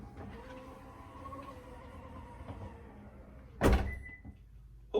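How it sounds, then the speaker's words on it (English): A motor hums as the power tailgate of a 2020 Subaru Forester closes, ending in a sharp thud as it latches and the car locks, close and clear with no talking. "This will allow you to close the tailgate and simultaneously lock the entire car."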